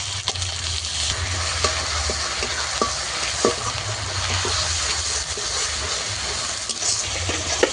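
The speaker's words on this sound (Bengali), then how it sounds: "আদা রসুন পেঁয়াজ আমি একসঙ্গে আরও কিছুক্ষণ কষাবো" Ginger, garlic and onion fry in a pan with tomato paste, a steady close sizzle broken by frequent scraping stirs and a low rumble underneath, with no voices.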